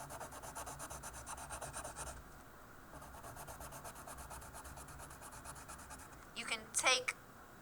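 A pencil laid sideways colors on tracing paper, a soft, steady scratchy rubbing in quick back-and-forth strokes, close and faint, pausing briefly before resuming, with a few sharper rustles near the end.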